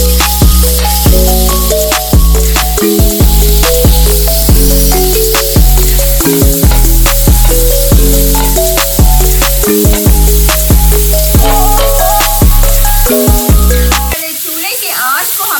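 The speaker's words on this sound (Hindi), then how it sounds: "इसके अंदर डाल देंगे जो मीट हमारा मैरिनेट होने के लिए छोड़ा हुआ था, ये सारा मीट इसके अंदर डाल देंगे" Marinated meat spread in a hot oiled frying pan sizzles loudly and continuously up close, with sharp crackles and spatter throughout before cutting off near the end.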